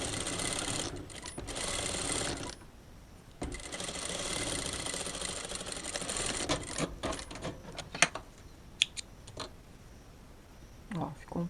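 A sewing machine runs a straight seam in stretchy knit fabric in several stop-start bursts, some long and some brief, with sharp clicks toward the end.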